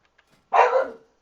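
Dogs give a single sharp bark close by after a few faint ticks, with quiet all around it.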